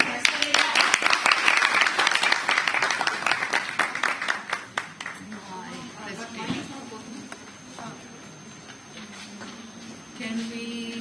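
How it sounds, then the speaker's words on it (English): Loud, dense audience applause fills a conference hall at an international science, mathematics, technology and education event, many hands clapping at once before fading into scattered claps and murmuring over the last several seconds. "A big round of applause for Professor Rekha."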